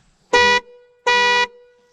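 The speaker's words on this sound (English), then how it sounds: "I'll sound the horn." Two loud, close horn blasts from a 2014 Suzuki V-Strom DL1000 adventure motorcycle, each a steady buzzy tone lasting about a third of a second, separated by a short pause.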